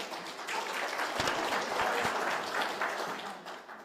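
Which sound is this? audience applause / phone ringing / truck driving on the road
audience applause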